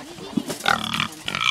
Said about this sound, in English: Well, they're pigs. What do you expect? They eat like pigs.